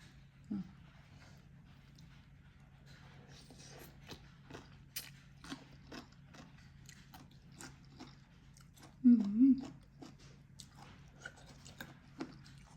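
Someone chewing a spicy Thai som tam papaya salad with peanuts, a run of quiet crunchy bites and mouth clicks close up, with a brief murmured voice partway through.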